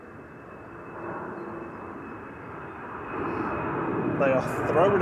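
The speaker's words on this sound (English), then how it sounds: "KLM 1038 departing to Amsterdam now, PHEZH and E190." A KLM Embraer E190 jet departing Manchester Airport, heard as a distant, steady engine roar that slowly builds. Someone talks over it throughout, and a few high chirps break in near the end.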